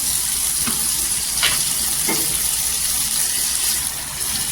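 Hot water poured into a pan of cooking fresh rajma, a loud continuous rush and bubbling hiss with a few brief splashes and spoon scrapes, no talking heard.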